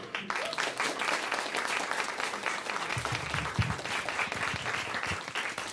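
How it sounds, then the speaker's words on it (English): Sustained applause from an audience at a Senate Democrats' press conference marking three years after Dobbs, a dense steady wash of clapping that holds at even strength throughout. "please give her a round of applause for leading this charge"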